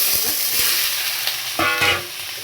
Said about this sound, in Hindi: इसमें तेल के अंदर सब्जियों को थोड़ा सोते करेंगे।